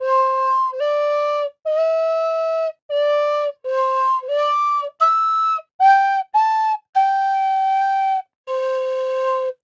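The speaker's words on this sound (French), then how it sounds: "c'est le sifflet." A cheap toy whistle blown in a series of short and long tones at shifting pitches, loud and near, with brief gaps between blasts.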